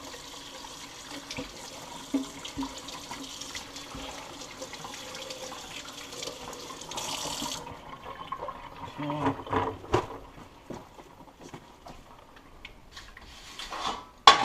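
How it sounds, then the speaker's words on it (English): Cold tap water runs steadily into a sink over a raw whole chicken being readied for spatchcocking, a continuous splashing hiss that shifts partway through, with light clatter near the end. "turn on your cold water, and wash your bird off"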